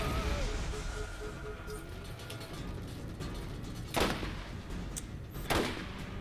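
Borderlands gunfire comes as a few sharp, scattered shots, two louder blasts standing out near the end, over a low rumbling game background.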